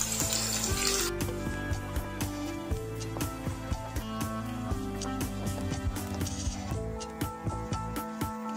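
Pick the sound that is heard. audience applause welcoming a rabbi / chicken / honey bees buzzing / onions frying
onions frying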